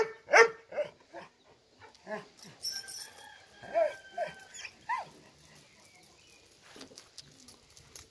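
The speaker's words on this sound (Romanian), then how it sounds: "Câine este foarte activ. Un câine tânăr, un câine puternic," A young, active Romanian shepherd dog of the Corb breed barks in several sharp, irregular bursts at moderate distance, with other faint animal and outdoor sounds between the barks.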